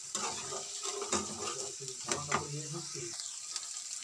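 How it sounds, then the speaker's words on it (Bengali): Masala with ginger sizzles and crackles steadily in a pan for a Bengali potol paneer curry, with a spatula stirring through it in irregular scrapes and clinks, close and fairly loud, with no one talking. "মশলাটা একটু ভালো করে ভেজে নেবো যাতে কাঁচা গন্ধটা চলে যায়।"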